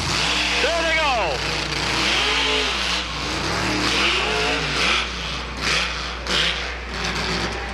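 Monster trucks Simply Irresponsible, a Chev, and Boris, a Ford, roar off the line side by side at a truck and tractor pull drag race, their engines rising and falling in loud revving surges under a commentator's continuous talk.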